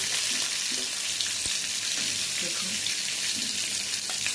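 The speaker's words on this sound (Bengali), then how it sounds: "একদম গরম গরম মাছ ফ্রাই ওখানে আমি নামিয়ে নেব।" Boal fish frying in hot oil produces a dense, loud, continuous crackling sizzle up close, with a brief spoken word over it.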